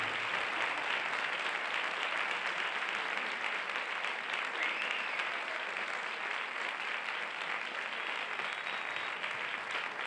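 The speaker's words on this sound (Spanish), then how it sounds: "Fuerte el aplauso." Steady, dense crowd applause fills the whole stretch after a performance at a 2012 singer-songwriter showcase, sustained and even throughout with no voices on top.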